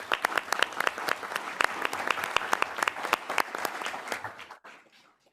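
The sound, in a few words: applause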